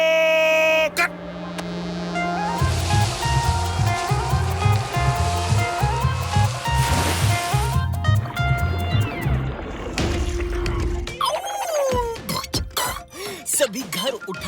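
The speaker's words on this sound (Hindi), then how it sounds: "मेजर अब लेफ्ट से राइट से सबमरीन को पानी में ले जाना शुरू करेगा" A cartoon submarine glides down into the water with a steady low hum and watery swish, layered under busy cartoon music and sound effects, ending in a scatter of bubbling, splashy accents.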